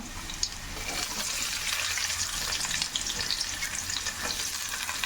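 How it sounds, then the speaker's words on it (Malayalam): Onion, green chillies and curry leaves sizzle in hot oil for a Kerala fish head curry, a dense continuous close crackle with faint stirring, no voices over it. "നമ്മുടെ ഉള്ളിയും പച്ചമുളകും കറിവേപ്പില ഇട്ട് കൊടുക്കാം."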